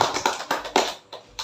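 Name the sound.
applause for a group member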